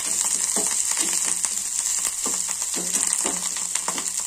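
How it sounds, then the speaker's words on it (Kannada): Sabudana mixture with coriander frying in a pan, a steady crackling sizzle with faint stirring scrapes, close and uninterrupted. "ಸ್ವಲ್ಪ ಚೆನ್ನಾಗಿ ಒಂದು ಫ್ರೈ ಮಾಡೋದು"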